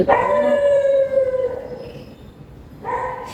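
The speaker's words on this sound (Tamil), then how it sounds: "இந்த நாய் என்ன சொன்னாலும் கேட்காது. இது நாயோட சவுண்டு பழகிடுச்சு." A dog gives a long, wavering howl close by that slowly trails off, then a second howl begins just as the sound cuts off. No one speaks.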